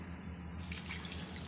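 Water added little by little to chapati dough: a brief, faint trickle that turns into a soft rushing splash partway through.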